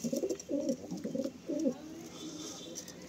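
Pigeons cooing in a pigeon loft, several low rolling coos in quick succession close by, fading to quieter background noise toward the end.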